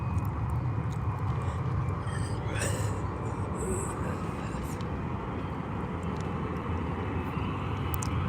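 Turkish Airlines Boeing 777-300 passing at YVR airport, a steady broadband jet roar held at moderate loudness throughout, fairly distant, with no talk.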